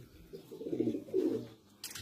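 Breeder Teddy flying pigeons coo in a pair of low, rolling phrases close by, followed by a short burst of higher noise at the end, with no talk.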